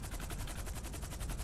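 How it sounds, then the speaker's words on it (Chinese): Rapid automatic gunfire in the video game GTA, a dense continuous burst of evenly spaced shots, loud and steady with no talk over it. "居然就跑来开枪射我了，我的妈！"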